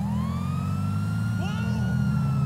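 A police car siren in the video game GTA 5, a loud wailing tone that rises and holds over a heavy, constant engine rumble, with a second brief siren sweep joining midway.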